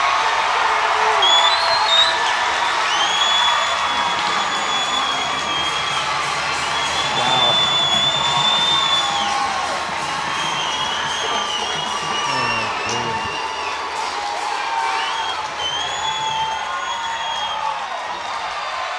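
High school football crowd erupting after a touchdown, loud sustained cheering, whoops and shouting from a large stadium audience that continues for many seconds, with some applause mixed in.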